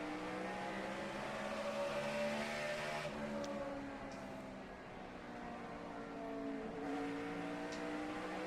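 Onboard a NASCAR race car at the Food City 500, the engine revs high, then drops off as the driver lifts into a corner before climbing again, loud and continuous.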